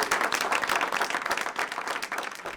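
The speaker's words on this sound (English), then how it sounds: "Round of applause." An audience breaks into applause at an aviation event, a steady, moderately loud wash of many hands clapping over a couple of seconds.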